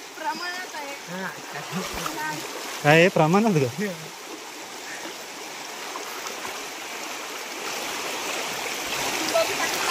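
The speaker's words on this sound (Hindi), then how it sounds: "बहुत तेजी से पानी का प्रवाह" Fast-flowing stream water rushes in a steady, close hiss that grows slightly louder toward the end, with voices talking over it at first.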